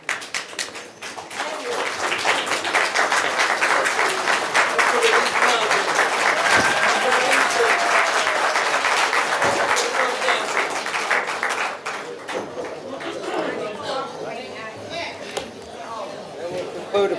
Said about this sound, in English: everybody just please stand and give a round of applause